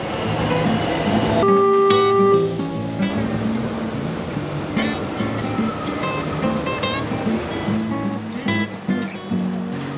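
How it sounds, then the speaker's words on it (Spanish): Line D subway train in Buenos Aires rumbling loudly along the rails, with screeching brakes and whining tones as the cars pass and slow, close up in the station. "Miren, ven acá el subte. Estamos en la línea D, que es la más nuevita"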